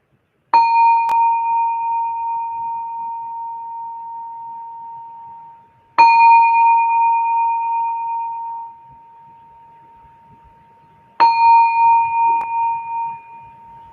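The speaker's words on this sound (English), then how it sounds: "I'm going to ring the bell." A meditation bell is rung three times at slow, even intervals, each strike clear and resonant with a long sustained ring that gradually fades; no voices are present.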